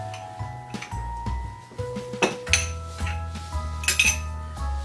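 A metal scoop clinks and scrapes against bowls while serving homemade bubblegum ice cream. The taps and chinks come close and irregular over a faint steady hum.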